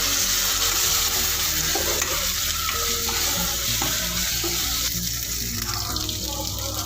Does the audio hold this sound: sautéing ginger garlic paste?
yes